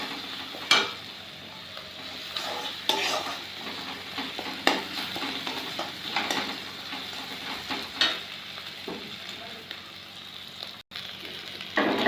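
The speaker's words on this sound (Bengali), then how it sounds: "আগের মশলাটা একটুখানি ভেজে নিয়ে তারপরে পেঁয়াজটা দিলাম" Ground spices and finely ground onion paste fry in a pan for an egg and new potato curry, giving a steady close sizzle broken by regular scraping stir strokes, with no voices.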